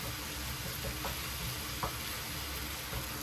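Peppers and onion fry in a pan with a steady, dense sizzle. A few soft scrapes of stirring cut through it, heard close and with no voices.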